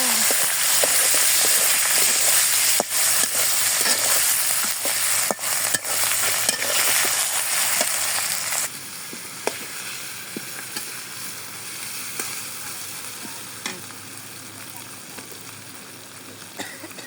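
Eggplant and chopped onion fry and get stirred in a pan, giving a steady close sizzle with scraping spoon strokes that turns quieter partway through.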